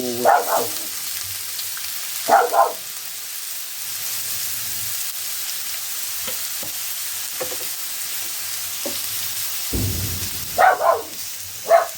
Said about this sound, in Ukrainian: Тепер тепер підсмажимо морковочку.